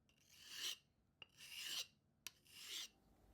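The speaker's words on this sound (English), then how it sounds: "hone the sides with my 240 and 600 grit stone to round the edges a little" A chisel being honed on 240 and 600 grit stones to round its edges gives three separate raspy strokes of steel on stone, each lasting about half a second, close and distinct, with a small click between strokes and no talking.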